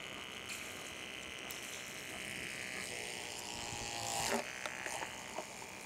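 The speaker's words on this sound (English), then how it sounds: "Now let's test out this pump here." A 12-volt water pump in an aquaculture flow-through raceway setup runs with a steady, close electric buzz and whine, constant throughout, with a few faint knocks and splashes toward the end.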